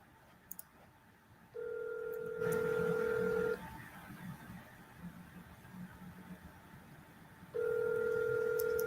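Phone dialing a sales lead, with bursts of touch-tone beeps and steady tones at moderate volume over faint background rumble.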